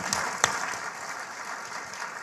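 An audience at a business panel on women's success applauds steadily throughout, a dense wash of clapping with one sharper clap standing out near the start.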